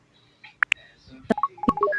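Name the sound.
phone dialing tones, DTMF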